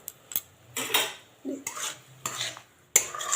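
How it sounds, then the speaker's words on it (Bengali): Paneer gravy with tomato is stirred in a pan, a spoon scraping and clinking against the metal in several separate strokes, with a soft simmering bubble between them, close up and with no talking. "ভালো করে মিশিয়ে নেব"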